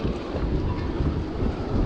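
Strong gusting wind, around 30 knots, buffets the microphone on a boat in a dense, continuous roar with low gusty rumbling, no voices.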